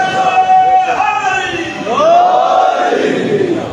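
A crowd at a Muharram majlis gathering in an imambargah chants the slogan Ali Zindabad, a loud rising call followed by a massed collective response, voices swelling twice in quick succession.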